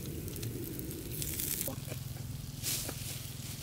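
Pork for Thai nam tok grilled-pork salad sizzles on a grill, a crackling hiss with bursts of spattering fat, close to the microphone and fairly loud.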